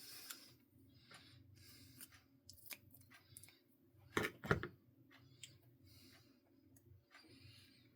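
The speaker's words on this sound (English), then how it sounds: "A pair of scissors." A pair of scissors snips through folded paper in a couple of quick close cuts, surrounded by faint rustling and handling noise in a quiet room.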